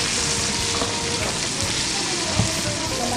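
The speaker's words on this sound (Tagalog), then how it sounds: "Gigisa niya muna yung pork belly." Pork belly sizzles and fries steadily in a hot pan, a dense continuous crackle with a few louder pops, close and alone without talk.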